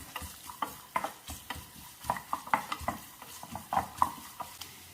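Coconut pieces frying in melted ghee in a pan, a soft sizzle broken by frequent scraping and clinking stirs, close up and fairly quiet with no talking.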